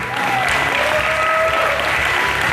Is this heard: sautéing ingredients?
no